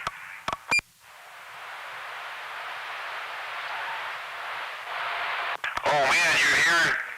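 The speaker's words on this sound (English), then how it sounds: "you're hearing DX with beeps?" Beeps over AM radio DX reception: steady hiss of static with a few sharp beeps near the start, then more beeps and a loud warbling tone sequence toward the end.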